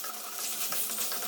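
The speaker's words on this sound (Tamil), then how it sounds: "உங்களுக்கு எந்த அளவுக்கு ட்ரையாக வேணுமோ அந்த அளவுக்கு நல்லா வதக்கிக்கோங்க" Mutton fry cooks in sesame oil in a pan, a dense, continuous sizzling hiss with no voices, steady and close throughout the short stretch.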